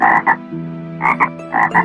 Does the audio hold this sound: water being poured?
no